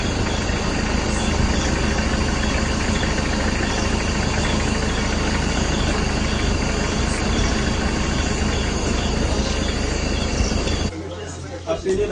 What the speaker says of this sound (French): comme il y a une moto qui arrive là-bas, la moto va passer d'abord.